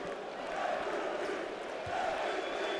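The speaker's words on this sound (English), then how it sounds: "As you hear the MVP chants for the crowd. For Dragic." Basketball crowd at a FIBA EuroBasket final in Istanbul chanting MVP for Dragic at the free-throw line, a broad roaring mass of voices swelling in rhythmic waves, distant and steady.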